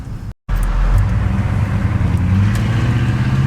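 A GMC vehicle with a newish transmission is driven along, its engine and drivetrain humming loud and close, with a brief dropout near the start and a low rumble that rises and settles as it shifts.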